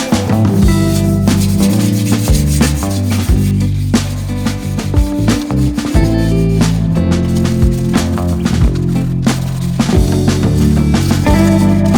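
Land Rover body panel scuffed and sanded by hand, a continuous loud abrasive rubbing that holds steady for about twelve seconds with no pauses or talking.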